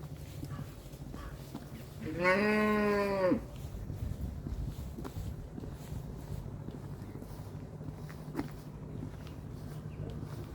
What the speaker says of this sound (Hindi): आप देख सकते हैं भेड़ें।